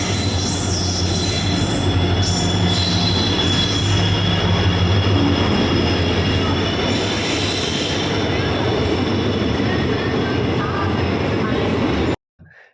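A train pulls into Mangaluru railway station, a loud, steady rumble of rolling wagons with high wheel squeal running throughout before cutting off abruptly near the end.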